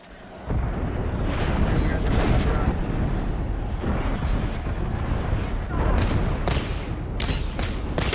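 Dense, continuous gunfire from the battle royale game Apex Legends, with sharp loud bursts clustering near the end over a steady roar of game noise, while a player talks throughout.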